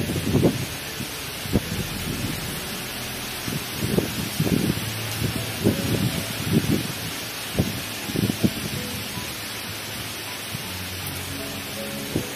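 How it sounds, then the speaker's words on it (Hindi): Heavy rain outdoors near a vehicle, a constant hiss of downpour with scattered louder splashes and gusty bumps on the microphone. "बारिश यार, यहाँ तो कुछ ज्यादा ही लग रही है।"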